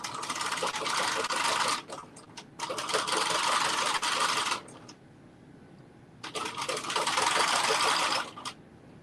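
Sewing machine stitching fabric in three loud, steady bursts of rapid mechanical whirring, each lasting about two seconds, separated by brief quiet pauses, heard close up.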